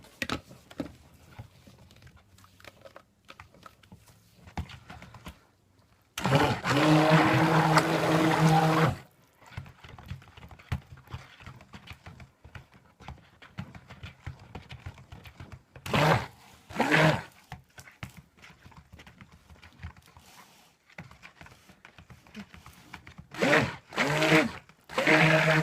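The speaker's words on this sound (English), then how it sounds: "I'm stick blending and stirring and stick blending and stirring" Stick blender mixing coconut milk soap batter for unscented cold-process soap, heard in several separate bursts: a long whirring stretch, then a few shorter pulses with quiet stirring gaps between them.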